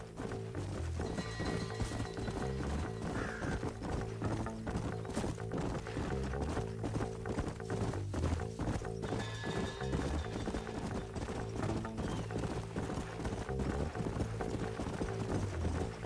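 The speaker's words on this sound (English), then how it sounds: "Let's hold up a minute and find a spot for our horses." Horse hooves clip-clopping in the Red Dead Redemption video game, a continuous rhythmic galloping beat of several horses riding together, loud and steady with a music-like backing bed throughout.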